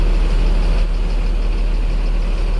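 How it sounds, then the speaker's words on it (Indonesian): A bus with a Mercedes-Benz 1626 engine idling, a steady close low rumble that stays constant and loud throughout with no variation. "untuk bis yang ini bermesin Mercedes-Benz 1626"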